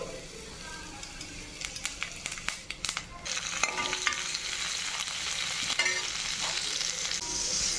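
Fennel seeds hit hot oil while tempering for a jackfruit rice chukka, giving a bright, crackling sizzle that swells and stays loud and close, with a few clinks and stirring scrapes from the pan near the start.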